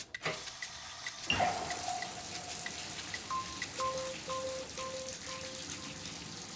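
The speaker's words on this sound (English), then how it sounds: "Oh, it's leaking serious." Water leaks and drips from faulty plumbing during a home drain repair job, with close, irregular patters and splashes over a steady hiss of running water.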